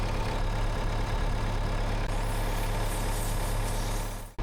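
A Komatsu PC75 excavator's engine runs at a steady idle, loud and close, with a constant low drone that holds unchanged before cutting off abruptly at the very end.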